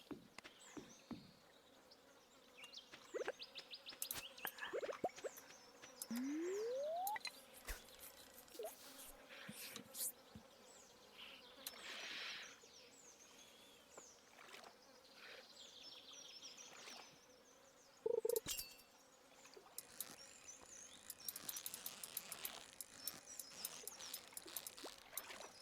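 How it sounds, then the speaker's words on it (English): Insects buzz and chirp in the Stardew Valley video game's outdoor nature ambience, a steady soft background drone with intermittent brighter chirps and occasional short game effects, no voices. "Listen to those beautiful chirps and sounds of nature."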